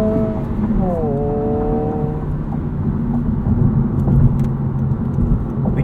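A 2022 Honda Civic Si drives in sport mode, a steady engine drone with shifting tones as revs change, heard from inside the cabin while a person talks over it.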